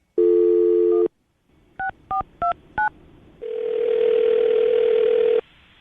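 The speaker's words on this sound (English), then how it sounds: "I'm gonna dial this phone number right now" A telephone number is dialed: a steady dial tone, then four quick touch-tone beeps in a row, followed by a long continuous line tone, all loud and clear with no speech.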